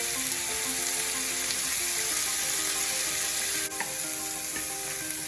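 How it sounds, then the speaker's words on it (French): Chunks of veal browning fast in vegetable oil in a sauté pan, giving a steady loud sizzle and crackle throughout with a brief stir partway, no voices. "je ne mets que de l'huile végétale pour faire revenir à feu très vite mes gros cubes de veau"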